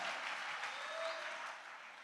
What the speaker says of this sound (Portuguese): Aplaudir, aplaude, irmãos